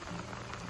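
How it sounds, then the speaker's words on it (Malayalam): Rain comes down outdoors on a weekend nature getaway as a short, soft, even wash of patter with no speech heard. "കറക്റ്റ് ആ സമയത്ത് തന്നെ മഴ ഇങ്ങോട്ട് പെയ്തു"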